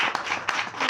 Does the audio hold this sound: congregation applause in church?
yes